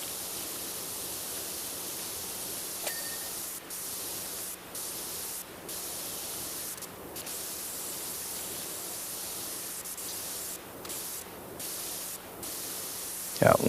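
Steady broadband hiss of a pressure washer spraying in PowerWash Simulator 2, running almost continuously at even loudness with a few brief cuts where the spray stops and restarts.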